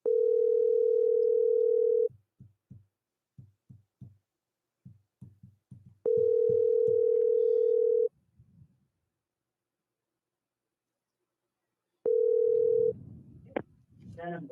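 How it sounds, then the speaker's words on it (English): An outgoing phone call to a scammer's number: three long ringback tones spaced apart, separated by soft clicking, before a voice comes on the line at the end. "I'm going to call this number just to see if it works, and we'll see if they answer"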